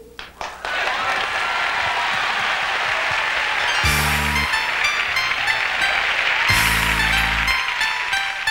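A concert audience at a Hollywood Night show claps steadily for a singer, a dense, loud wash of applause lasting several seconds, with low musical notes sounding briefly twice underneath.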